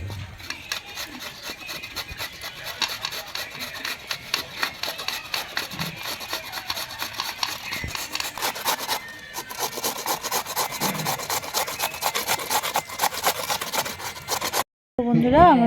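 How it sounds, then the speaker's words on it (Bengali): An old radish is rubbed against a kitchen grater in quick, steady rasping strokes, close up, with a brief pause partway and a few soft clatters near the end. "মূলোটাকে এবার ঘষে নেব।"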